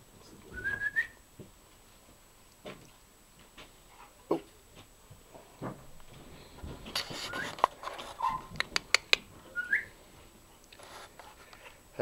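In a wood turning shop, a dog whimpers faintly while someone whistles for it with short rising whistles, amid scattered clicks and knocks, quiet and close.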